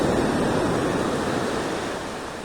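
Ocean surf at Legon Pari beach rolls in as a loud, continuous broadband roar of breaking waves, steady and close with no voices over it.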